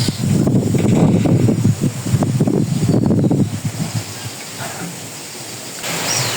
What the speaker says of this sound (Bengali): এখনো আছে বাতাস